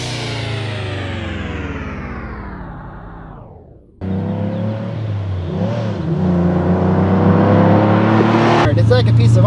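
A Jeep GPW runs close by, its engine note slowly falling away, then a louder steady engine rumble with shifting pitch takes over and builds toward the end.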